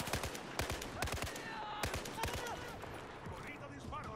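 Rapid bursts of automatic gunfire and sharp single shots crack through a Battlefield 4 campaign battle in Tashgar, loud and close, with irregular clusters of reports over a dense background of distant combat.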